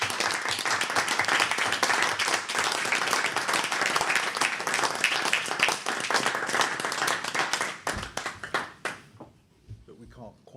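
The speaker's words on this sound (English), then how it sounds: "it's absolutely delightful that we can actually do actual clapping rather than virtual today" Live audience applause at a public trust board meeting, dense sustained clapping from many hands that carries on for several seconds before thinning out into scattered claps at the end.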